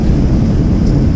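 Boeing 757 thrust reversers roaring during landing in X-Plane 11, a loud, steady, low-heavy engine rush that fills the whole moment without a break.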